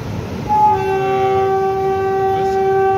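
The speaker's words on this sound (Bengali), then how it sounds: "এই দেখুন যাত্রা শুরু করতে চলেছে এই ট্রেনটি" A Kolkata–Sairang Express train sounds a long, loud, steady horn at the platform as it prepares to depart, the tone starting about half a second in and holding to the end over station rumble.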